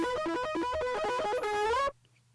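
A distorted instrument plays a quick, bright melodic phrase with a pitch-shifting effect, loud and steady for about two seconds before cutting off abruptly into near silence.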